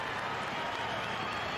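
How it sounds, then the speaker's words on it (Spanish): A football stadium crowd applauds in a dense, continuous roar of clapping and cheering that holds steady throughout this brief moment. "Y un aplauso"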